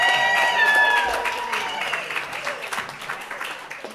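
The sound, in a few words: board meeting audience applauding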